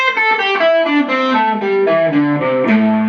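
A descending blues scale on electric guitar, run through effects with distortion, steps down note by note in an even, sustained line, loud and close with no talking.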